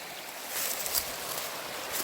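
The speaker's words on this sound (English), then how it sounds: "here is some of the stream, brook, creek coming from the pond where I just was" Stream flowing out of a pond along New Hampshire's Mountain Brook Trail near Andover, a steady, close hiss of rushing water with small splashy surges and no voices.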